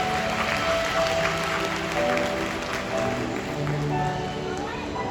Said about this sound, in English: let us now take a moment to give a round of applause to these amazing birds